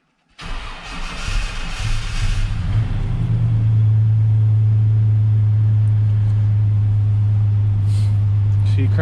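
A truck engine cranks briefly, catches and settles into a loud, steady low rumbling idle close by.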